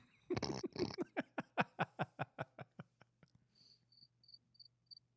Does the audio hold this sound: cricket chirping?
yes